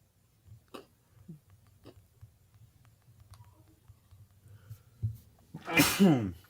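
A single loud sneeze erupts near the end after quiet shuffling and small clicks in a hushed room.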